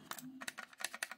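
Sharp button clicks from a white SOLAKAKA SM802 RGB wireless gaming mouse, a quick irregular run of about ten close, crisp taps with a faint low hum under them.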